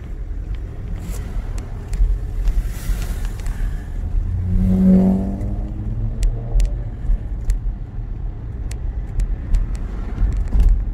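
A car driving through quiet London streets during quarantine, a steady low engine and road rumble from inside the vehicle with faint clicks and a brief rising tone midway.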